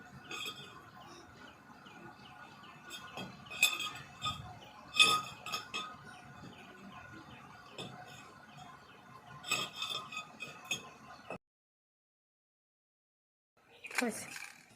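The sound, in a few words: knife cutting raw jackfruit into small pieces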